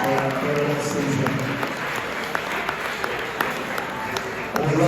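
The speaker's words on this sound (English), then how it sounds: "Give our upper school men's football team another round of applause, please." A sports banquet audience applauds the upper school men's football team, moderate clapping spread across the room with speech running over it.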